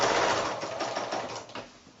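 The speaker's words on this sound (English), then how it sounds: "stitch onto that new side, needle down, pivot it round in there" A sewing machine stitches binding onto a quilt. It runs steadily up close with a rapid mechanical chatter, slows toward the end, and then stops briefly.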